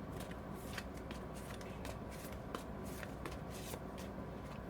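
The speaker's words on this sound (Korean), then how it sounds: "조언 카드를 한 장 뽑아보도록 하겠습니다" Tarot cards being shuffled by hand, a continuous close riffle of cards with soft regular slapping flicks.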